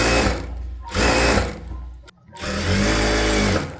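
Sewing machine stitching a blouse with a 1.5-inch allowance, loud and close, running in steady bursts with a brief pause midway before resuming strongly.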